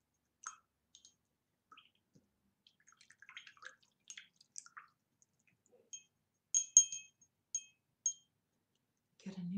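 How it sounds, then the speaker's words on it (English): A watercolour paint brush is swished and tapped in a water jar, giving soft scattered drips and clinks, with a few brighter clicks near the end and a low rumble closing it out. "And then we'll rinse off the brush."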